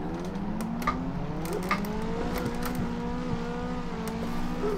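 Nissan 180SX S13 with a naturally aspirated SR20DE engine drifting in the Assetto Corsa racing game, its engine droning steadily with rising and falling pitch and revving throughout, no voices.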